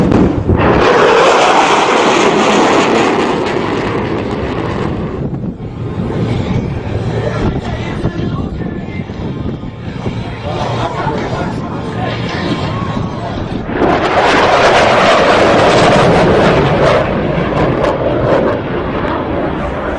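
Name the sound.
F/A-18 Super Hornet jet high-speed pass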